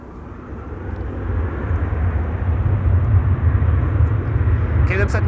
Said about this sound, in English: Flight 1959 to Istanbul, Turkey. It's taking off right now.